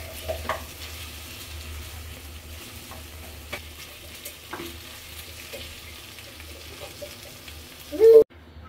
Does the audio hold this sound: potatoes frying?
yes